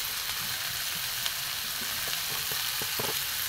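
Cumin, coriander powder and grated ginger fry in a pan for a vegetarian pumpkin and drumstick curry, a dense continuous sizzle with light stirring taps scattered through it, no voices.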